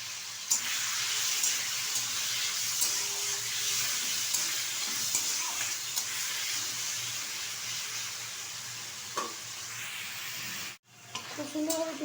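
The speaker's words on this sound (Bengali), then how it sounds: "এখন তেলটা কিন্তু গরম হয়ে গেছে, আর এখন এর মধ্যে দিয়ে দেবো চিকেন আর চিংড়ি মাছ যে ম্যারিনেট করে রেখেছি সেটা ভেজে নেব" Marinated chicken and prawns frying in hot oil for mixed fried rice, a steady loud hiss and crackle filling the pan, with a brief clatter near the end.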